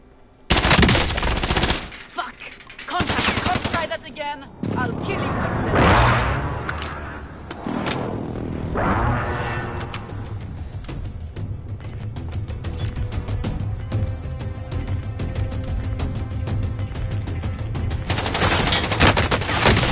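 Loud, dense automatic gunfire fills a shooting video game, with rapid bursts and sustained fusillades over rumbling booms, nearly continuous throughout.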